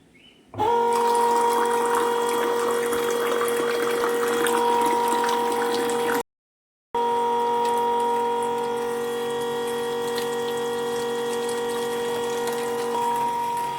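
Water gushes steadily from a pump while jugs are filled, a loud continuous pour with a steady tonal hum, briefly cut off in the middle before resuming.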